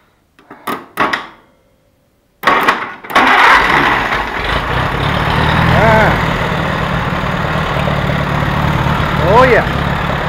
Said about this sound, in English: let's start this thing up and drive it out of here.